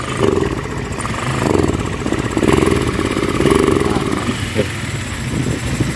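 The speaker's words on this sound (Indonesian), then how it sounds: "Nah, ya, supaya hidupnya gas. Kalau digas itu ngempos." A motorcycle engine fitted with a replaced Mikuni injector revs and idles roughly nearby, its throttle rising and falling in loose surges over about six seconds.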